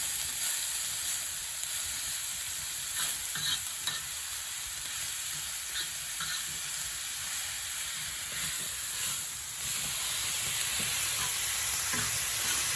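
Pork belly sizzles on an iron griddle over a wood fire in an outdoor firebox, making a continuous close frying hiss with faint crackles and light scraping now and then, and no talk.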